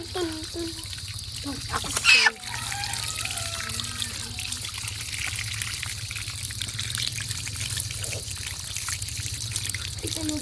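Water trickles and pours steadily throughout at a backyard chicken pen, with a brief loud clatter early on and faint background voices.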